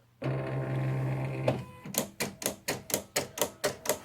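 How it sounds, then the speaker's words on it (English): A Silhouette Cameo 3 vinyl cutter hums steadily as its blade adjusts before cutting. It then shifts into a regular series of about nine crisp mechanical clacks, close and fairly loud, with no voices. "the blade is adjusting itself to the right height and everything, and once it is at the good height, it will begin to cut"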